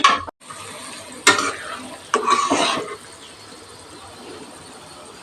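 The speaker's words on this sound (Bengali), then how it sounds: "হিট হাই করে পাঁচ মিনিট ফুটিয়ে নেবে মিক্স করে দিলাম" Katla fish curry is stirred in a pan on high heat, a few bursts of scraping and sizzling amid a soft simmer, with a cough near the start.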